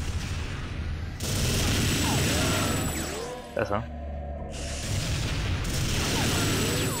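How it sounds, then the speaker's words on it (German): Cannon fire in the video game TimeSplitters 2, heavy booming blasts that fill the scene with a dense roar, a brief lull in the middle, and someone speaking briefly over the gameplay. "eine Kanone gibt es noch, das ist ja auch awesome"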